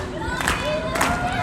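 A wrestling crowd at a Hurricane Pro Wrestling show roars and cheers in a dense, loud wash with brief swells, while a commentator's voice runs underneath.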